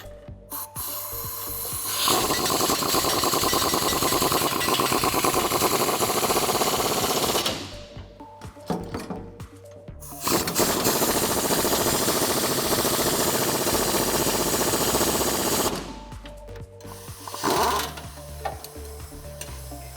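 Power impact wrench driving a 17mm bolt and nut on the rear bumper bracket of a 2007-2018 Chevrolet Silverado 1500 off-road tubular bumper, two long loud bursts of whirring hammering with a short pause between, no talk.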